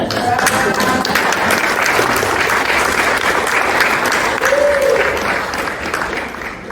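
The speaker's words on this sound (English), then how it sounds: "Can we get an applause for Peter and Kate right now?" A conference audience gives a sustained round of applause for two people at a panel on executive transitions, steady dense clapping filling the room before tapering slightly at the end.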